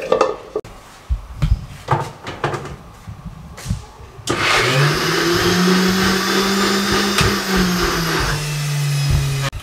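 A juicer blender jug briefly grinds cooked dal, starting with a few clinks and knocks, then a loud, steady motor whir that runs for several seconds with a slight rise in pitch.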